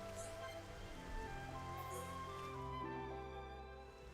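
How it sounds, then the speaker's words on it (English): Soft, steady rain falls in the Xenoblade video game, a faint continuous patter with gentle droplet texture and no break across the stretch. "Oh, it's raining in the game."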